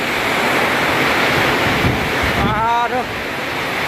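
Strong storm wind roars continuously during a sudden storm on 13 April 2025, loud and buffeting against the microphone like heavy surf, with a brief whining tone near the end.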